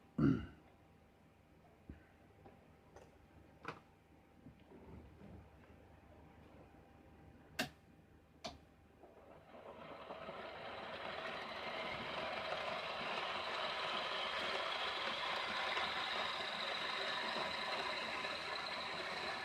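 A fan spinning up during assembly: a few isolated clicks and taps, then a steady broadband whoosh that rises and holds, fairly quiet and with no talking.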